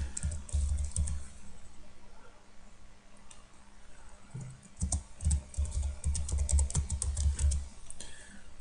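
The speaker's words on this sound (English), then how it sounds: "Now I want to type this" A computer keyboard is typed on to enter a command while rooting a Motorola Xoom tablet: a short burst of clicks, a pause, then a rapid, close run of keystrokes.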